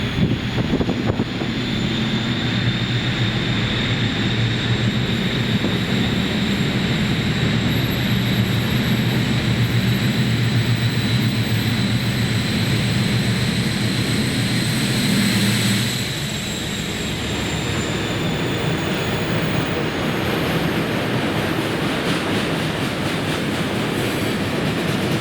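Class 56 diesel locomotive 56096 rumbles past hauling a loaded aviation fuel train, a long steady roar of engine and rolling wagons with a faint clatter, easing slightly toward the end.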